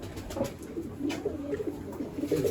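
Pigeons coo in a loft among birds kept for sale, with soft, low, repeated throaty coos close by over a steady background hiss.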